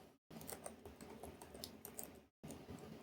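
Rapid clicking of keys as Java code is typed on a computer keyboard, a steady close stream of taps with two brief pauses, no talking.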